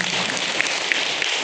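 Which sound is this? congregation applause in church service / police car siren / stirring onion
congregation applause in church service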